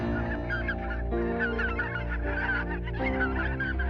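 Waterfowl in the Grande Brière marshes call loudly and continuously, a close chorus of overlapping honking cries with no voices.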